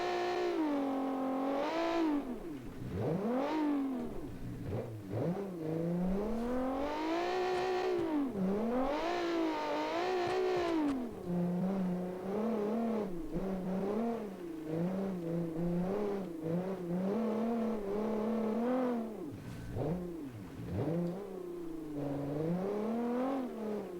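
Rear-engine rally car in a classic 1972-season rally racing video game, its engine revving hard and continuously with rising and falling pitch as it shifts through gears and corners, loud and close throughout.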